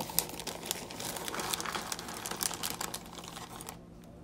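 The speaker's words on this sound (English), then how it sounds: "before I apply some cracked wafers to it." Dry crinkling and crisp snapping of vanilla wafers being broken, in a steady close-up crackle that stops abruptly near the end.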